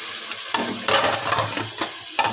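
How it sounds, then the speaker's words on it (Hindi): Spiced masala with yogurt, tomatoes and a splash of water sizzles in a pan while being stirred, with repeated scraping strokes over a continuous frying hiss. "मसाले को भूनने के लिए ये थोड़ा सा पानी लगाएंगे"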